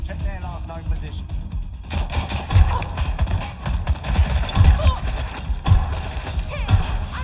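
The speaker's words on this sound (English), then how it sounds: "I'm getting shot up here! I need help!" Video game gunfire in Watch Dogs: Legion, with repeated loud shots and thuds in irregular bursts that mix with a busy combat din and occasional voices.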